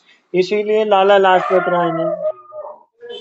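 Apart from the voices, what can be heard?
dogs barking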